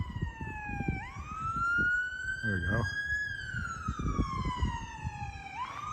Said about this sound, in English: Police car, unmarked police car.